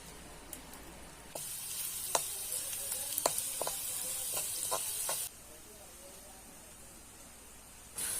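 Garlic and chili sizzling in hot sweet oil in a kadhai for a wild-greens dish, a steady close frying hiss that starts abruptly, carries several sharp spatula scrapes and pops, then drops away before resuming briefly at the end.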